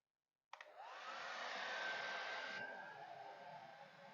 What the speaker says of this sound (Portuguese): agora eu vou ligar o secador